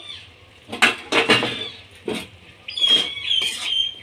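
A metal lid comes off a cooking pot in a home kitchen, a few clattering scrapes and clanks followed by a brief ringing squeal of metal.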